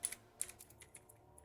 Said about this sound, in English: let me just type in combo duration